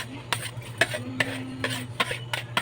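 Onions and garlic being tossed into a pan and stirred with a utensil, for octopus cooked in coconut milk: a run of sharp, close scraping and clinking strokes over a faint sizzle, with no talk.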